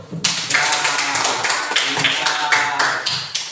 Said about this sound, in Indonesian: silakan beri tepuk tangan dulu